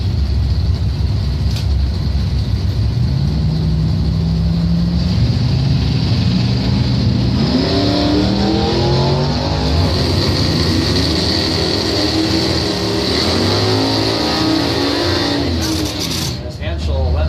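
Drag racing cars, including a 1979 Camaro, roaring off the line at a strip, engine drone rising in pitch over a long pull, with an announcer talking over it.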